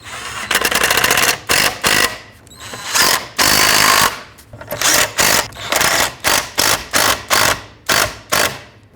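A power ratchet tightens the shield mounting nuts beside the catalytic converter on a Dodge Grand Caravan. Loud, close whirring bursts come first in longer runs, then in a series of short, rhythmic pulses.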